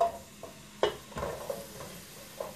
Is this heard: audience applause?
no